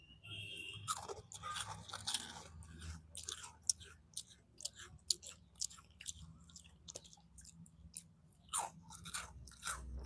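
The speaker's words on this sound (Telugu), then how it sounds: "మామ్స్ మ్యాజిక్ బిస్కెట్ తింటాను." Someone crunches and chews Mom's Magic biscuits up close, making repeated crisp bites and grinding chews in an irregular rhythm over a low background hum, with no clear talking.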